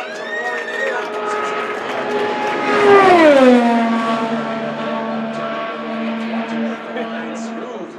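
A Honda-powered McLaren IndyCar prepared by Andretti Autosport screams past on an Indianapolis 500 qualifying run, its high engine whine rising and then sweeping down in pitch as it passes close, loud over steady crowd and track noise.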